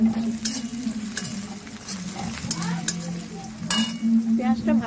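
Onions frying in a pan with cloves while being stirred, a steady sizzle with scraping and clinking of the spoon against the pan, close and continuous with no talk, while cooking mutton kosha.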